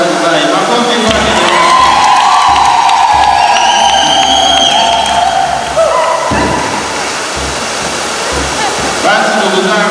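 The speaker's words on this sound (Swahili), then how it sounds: "kama mnavyosikia hayo makofi na vigelegele" Wedding guests at a Catholic church ceremony in Zinga, Bagamoyo, Tanzania, applaud and ululate loudly, a dense sustained roar of clapping with high trilling cries, while rain falls outside and a voice speaks over it.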